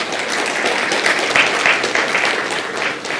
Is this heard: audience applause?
yes